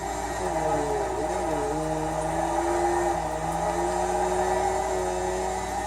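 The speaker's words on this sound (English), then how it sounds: "Can you guys hear like a tire grinding type of noise?" A car in the Forza racing game drones with a steady engine and tire roar, while a wavering grinding tone shifts up and down in pitch underneath, continuous and fairly loud.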